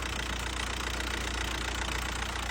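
A car engine, just brought to life with a jump-starter booster, idles steadily: a constant close, low rumble with a faint knocking texture that runs unbroken from start to finish, no voices over it.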